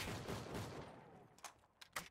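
Gunfire in Call of Duty Zombies, Rust Outpost map: a dense burst of rapid shots for about a second, then a few sharper isolated cracks, fairly quiet and up close.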